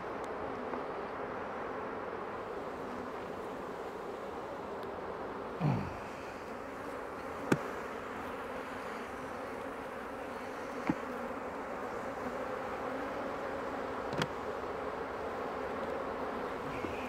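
Agitated honey bees swarm and drone around an opened hive during a honey harvest, a steady dense buzz throughout with occasional sharp clicks and a single brief knock, no voices.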